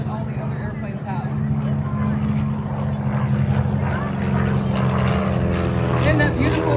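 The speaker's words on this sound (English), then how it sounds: "you can hear the difference in the engine as it flies by" CJ6 aircraft with a radial engine flying past at an air show, a continuous throbbing drone that swells slightly louder as it passes.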